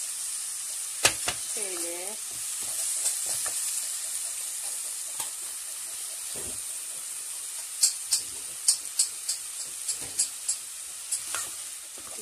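Tomato paste, black pepper and red pepper sizzle with meat in a pan, a soft steady frying hiss under quiet speech, with a run of light clinks and scrapes from stirring toward the end.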